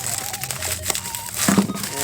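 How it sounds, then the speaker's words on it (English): Bubble wrap packaging crinkles and rustles as a package is unpacked, a close, brief run of crisp plastic crackles that grows louder toward the end. "I love this bubble wrap packaging."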